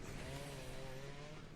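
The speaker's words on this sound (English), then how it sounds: "Oh, that chainsaw sounds so nice. Just a little purring in the background." A chainsaw revs in the video game Guild Wars 2, a continuous, buzzing, purring drone with a slightly wavering pitch that stays steady in the background for the whole moment.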